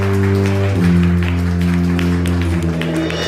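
An audience applauds during an award presentation at a Malayalam Mappilappattu stage show. Dense, steady clapping runs under a loud sustained tonal drone.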